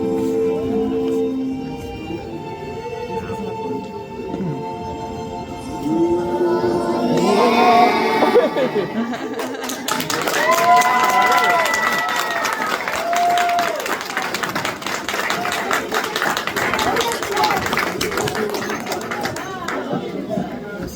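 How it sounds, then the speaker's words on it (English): A crowd cheers, claps and shouts in sustained applause that swells partway through, with children's voices and speech mixed into the loud, continuous noise. "Can we give them another round of applause?"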